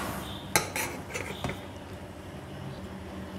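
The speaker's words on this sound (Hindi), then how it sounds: "तो ये इसमें हम करेंगे सर्व अपने ट्रे में और इसको डालेंगे हम ऐसे।" Beef yakhni pulao rice being spooned into a serving tray, with a few sharp metallic scrapes and clinks of the spoon against the tray early on, then quiet soft handling sounds.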